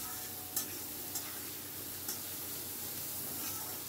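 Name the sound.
green peas being fried and stirred in a pan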